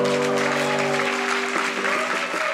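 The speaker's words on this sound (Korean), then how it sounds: "여러분 큰 박수 감사합니다" Wedding guests applaud in a steady, dense wash of clapping throughout, with a sustained musical tone underneath for the first part.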